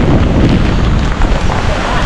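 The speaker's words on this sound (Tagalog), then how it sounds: "Palakas na yung hangin tsaka yung ulan." Strong super typhoon wind and rain roar as a loud, continuous rush with heavy gusts buffeting the microphone, with no break.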